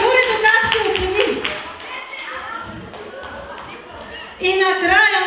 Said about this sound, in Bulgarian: И за двамата искам аплодисменти специални